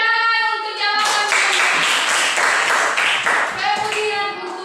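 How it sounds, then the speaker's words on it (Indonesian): A school class claps together for a correct answer, a burst of many hands roughly in rhythm, bracketed by a child's sung or spoken voice at the start and end. "Tepuk tangan untuk jawaban."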